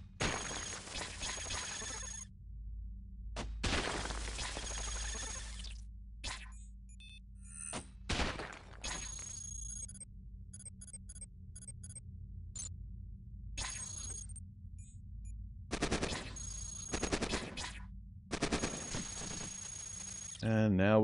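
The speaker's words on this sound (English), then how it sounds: "Go mini grenade launcher." Mini grenade launcher fire and explosions in the robot combat game Cogmind. Several sharp bursts and crashing blasts are separated by quieter gaps, with a low steady hum underneath and a player talking over parts of it.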